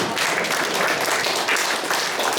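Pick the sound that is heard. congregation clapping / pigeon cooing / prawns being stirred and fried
congregation clapping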